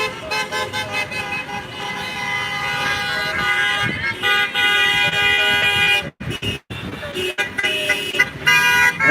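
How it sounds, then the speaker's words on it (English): Many car horns honk at a street protest and memorial gathering, overlapping long toots and short beeps close by, with crowd noise and voices mixed in and brief gaps. "And these honking horns, I believe, are all in support of the gathering."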